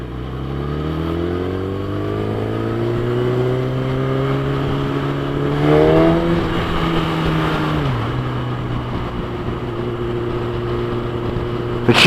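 A 2012 Kawasaki Ninja ZX10R superbike with 57,000 km on it roars while being ridden, its engine tone climbing steadily through the revs, then briefly dropping as it shifts and building again, loud and close.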